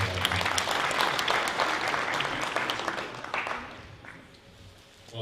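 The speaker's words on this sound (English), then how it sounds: "A round of applause for Representative Altman." An audience at a high school hall of fame induction ceremony claps loudly together, the applause holding steady before tapering off toward the end.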